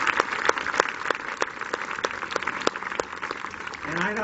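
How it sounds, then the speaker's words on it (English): An audience at a scholarship reception claps for foundation staff and counselors, with sharp individual claps standing out over a softer wash of applause and a voice starting up at the end. "Let's give them a big round of applause."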